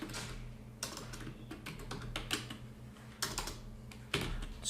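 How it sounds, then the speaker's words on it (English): Typing on a computer keyboard at a desk while entering text into a pie chart in Illustrator, with irregular close clicks and keystrokes and a steady low hum underneath. "So we'll type in capitals."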